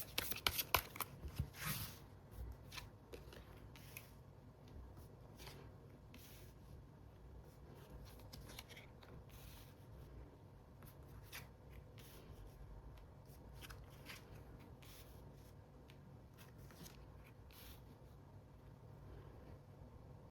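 Tarot cards being shuffled by hand during a reading, a soft papery riffle and flutter that is busier at the start, then settles into quiet, steady shuffling throughout.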